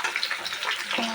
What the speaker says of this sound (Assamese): ফ্ৰাই কৰি লওঁ।